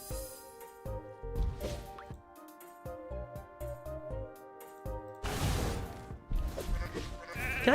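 Sheep bleating inside a video game, short wavering bleats repeating over dripping, plopping game effects and tonal background music, with no talk.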